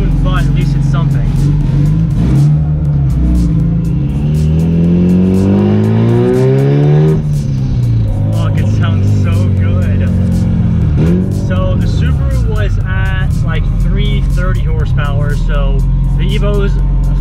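A tuned Mitsubishi Evo 8 of about 370 hp accelerates hard, its engine climbing through revs loud and close, with gear changes, sharp drops and renewed pulls, while a voice talks over the engine noise.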